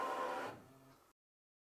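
An embroidery sewing machine stitches a quilt block for a Chicken Salad quilt pattern, giving a short, close mechanical whir that runs for about a second and then stops dead into silence.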